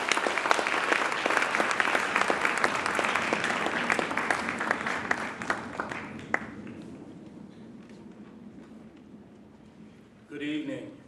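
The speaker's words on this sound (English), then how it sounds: "Please give a warm round of applause to Dr." An audience at an Edward Said anniversary lecture on Palestine and justice applauds a speaker, a full dense round of clapping that thins out around six seconds, leaving quieter room tone and a brief voice at the end.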